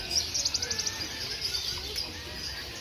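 Canaries and other songbirds at a bird market in Solo, Indonesia chirp in a quick series of bright calls, then fainter twittering continues over a low, busy background hum.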